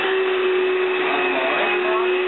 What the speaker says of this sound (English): A Kirby pushing a vacuum.